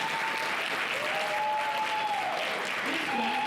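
Youth summit audience clapping, a full steady burst of applause from a sizable crowd with some voices audible beneath it.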